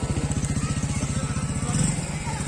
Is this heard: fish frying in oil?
no